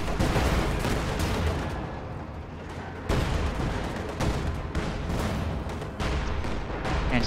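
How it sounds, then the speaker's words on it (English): An anti-tank gun in a tank video game fires a volley of loud, sharp blasts in bursts. The shots come every second or so over a steady rumble of battle. "Anti-tank gun firing"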